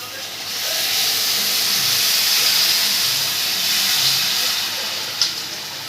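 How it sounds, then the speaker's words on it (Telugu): Tamarind juice hits hot oil in a pan for a sea fish curry, giving a loud, steady sizzling hiss that swells within the first second, holds for several seconds and eases slightly toward the end, with one brief sharper spit. "సో ఇప్పుడు దీంట్లో చింతపండు పులుసు యాడ్ చేస్తున్నాం."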